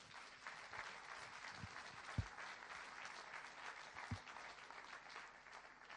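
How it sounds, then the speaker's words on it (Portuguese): Steady applause from a church congregation, fairly quiet and distant, with a couple of louder individual claps standing out. "Você pode aplaudir"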